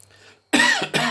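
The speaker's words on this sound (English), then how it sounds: "Sorry about the coughing, I can't help it." Two harsh coughs in quick succession, loud and close, following a faint murmur.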